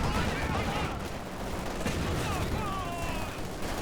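Machine gun fire from the Company of Heroes 2 strategy game rattles in a dense, continuous barrage, mixed with other battlefield noise and a voice talking over it.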